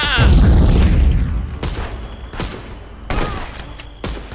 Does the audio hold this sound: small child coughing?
no